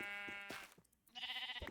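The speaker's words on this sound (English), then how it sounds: "I'll attempt to take out this other sheep here." Sheep bleating in the Minecraft mod Better Than Wolves, two short bleats separated by a brief pause and a soft thud, fairly close and clear with no talk.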